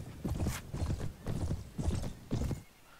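Galloping horse hooves in the Mount & Blade: Prophesy of Pendor game, five rhythmic clusters of thudding clip-clop, close and fairly loud.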